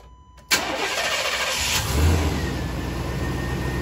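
A 1998 Chevy GMC K2500 pickup truck engine, just fitted with a replacement fuel pump, cranks and catches abruptly, then settles into a steady, close idle with a brief rev.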